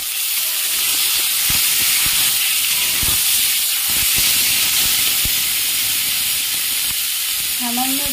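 Washed mangoes go into a hot pan and are stirred, giving a steady hiss and sizzle with scattered knocks and scrapes throughout, no voices heard.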